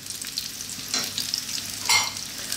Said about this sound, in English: And I just want to throw these around in the pan, high heat, for about just 2 to 3 minutes.